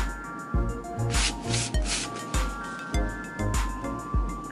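Repeated rubbing and scratching strokes of a marker drawing a line on a triangle bikini top sewing pattern, close and fairly loud, in uneven bursts about every half second.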